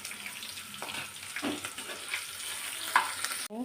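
Curry leaves sizzling in hot oil in a pan while making upma, a steady close crackle with stirring scrapes and a brief louder burst near the end.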